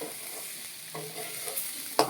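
Spices being dry-roasted and stirred in a pan for a country-style fish sambar, giving a soft scraping and light sizzle with a sharper clack near the end, close and alone.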